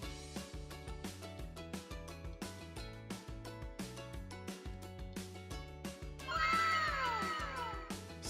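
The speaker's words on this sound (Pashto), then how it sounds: "پیشو" A domestic cat gives a single drawn-out meow near the end, loud and close, rising over steady rhythmic background music that plays throughout.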